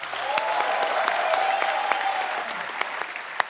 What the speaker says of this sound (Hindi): चंदन के लिए जोरदार तालियां।